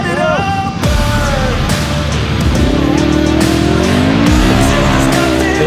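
An unlimited off-road race truck in the Vegas to Reno 2024 desert race is driven hard, its loud, close engine revving and climbing in pitch through repeated gear changes without pause.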